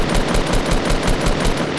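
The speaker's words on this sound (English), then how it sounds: "there's like sniper shots going on" Rapid gunfire in the video game Fortnite, with sniper shots mentioned: a dense, steady stream of loud, evenly spaced shots filling the whole stretch with no pauses.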